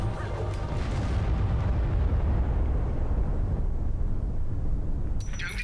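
A loud, rumbling explosion in Tomb Raider: Legend, on a Tokyo high-rise level, with dense low-end roar sustained for several seconds, ending with a brief bright electronic chime.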